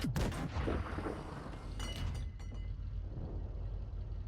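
Heavy booming cannon shots from tanks in World of Tanks Blitz, one sharp blast at the start and another softer one midway, trailing into a low rumbling engine drone.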